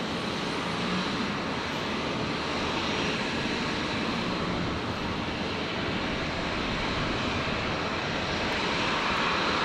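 A Jetstar airliner comes in to land at Brisbane Airport, its engines giving a loud, steady broadband roar that holds without a break for the whole stretch, with no voices.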